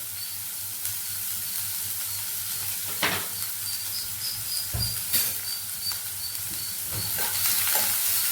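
Slit green chillies fry in a pan of oil for a mushroom curry, giving a continuous crackling sizzle, with occasional knocks and scrapes from stirring and brief bright pops. No one speaks.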